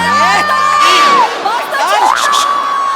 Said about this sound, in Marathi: टाळ्या, जोरदार टाळ्या.